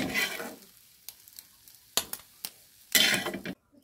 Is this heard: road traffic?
no